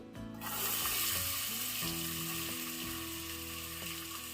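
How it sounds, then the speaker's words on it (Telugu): Two medium onions and five slit green chillies fry in hot oil for an Andhra-style gongura mutton curry, a loud continuous sizzle with faint steady tonal hum beneath it. "ఇప్పుడు పచ్చిమిర్చి ఉల్లిపాయ ముక్కలు కూడా కలర్ వచ్చేంత వరకు వేయించుకోవాలి"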